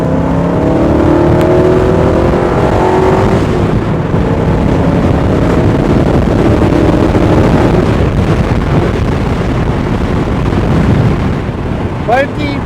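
A 1986 AC Cobra Mk IV accelerates hard after a downshift, its engine note rising loudly over heavy wind buffeting heard from the passenger seat, with faint talk partly buried under the roar.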